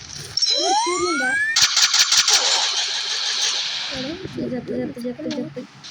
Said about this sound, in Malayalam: ഞാൻ കാറോടിക്കട്ടെ